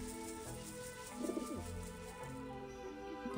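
Pigeons coo in the video game Grim Fandango, a soft, repeated warbling call over steady ambient game music, rising briefly louder in the middle and then settling back without any talk.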